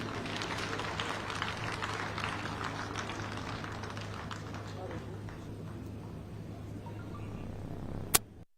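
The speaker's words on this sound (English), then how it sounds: "May I request that we indeed give her an applause for a job well done." Quiet, distant applause rolls on steadily at an independence day anniversary parade, honouring the parade commander, and ends with a sharp click.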